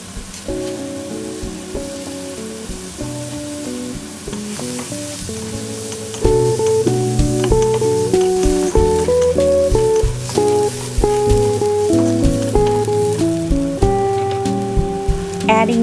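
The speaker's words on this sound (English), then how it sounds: "adding the sliced onion, red bell peppers, and green spring onions, and toss it up well or stir fry it" Sliced onion, red bell peppers and green spring onions stir-fried for crispy chilli butter garlic shrimp, a bright continuous sizzle with tossing and scraping, under loud background music.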